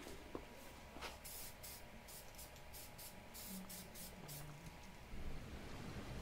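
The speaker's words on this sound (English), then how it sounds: "then spray painted them at all different angles" A spray can applies paint to thrifted home decor pieces on a skewer rod, in a quick series of short, fairly quiet hissing bursts with brief pauses, ending in a longer spray.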